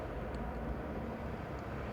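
A Scion xB engine with a dirty throttle body idles in a steady, low, continuous drone with no clear changes, with no voices over it.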